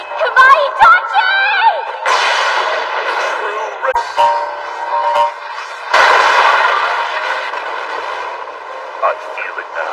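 Anime-style fire attack explosion effects, with sharp blasts and a sustained roaring burst of fire, followed by further surging eruptions over ten seconds, mixed with dramatic voices.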